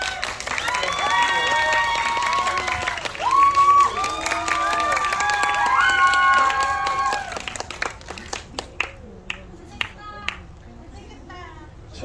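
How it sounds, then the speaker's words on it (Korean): Cinema audience applauding and cheering as a director and lead actors take the stage for a greeting before a film screening at Megabox COEX, loud clapping mixed with excited shouts that thins into scattered claps and fades. "그럼 큰 박수로 부탁드리겠습니다."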